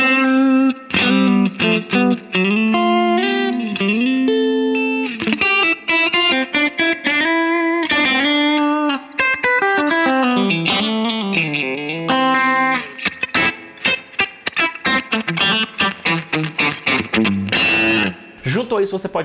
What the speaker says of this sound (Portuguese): Eu vou selecionar a Fender anos 60, Spec anos 60 da Wildwood Guitars e vou ter esse som mais magro.